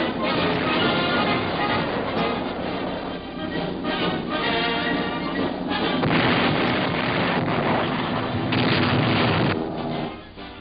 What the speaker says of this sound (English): the bombers pound the Asiatic coast and Jap bases elsewhere